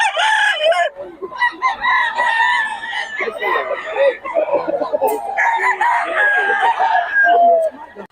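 Several roosters crow loudly and repeatedly, overlapping one another, with hens clucking among them in a busy, noisy yard.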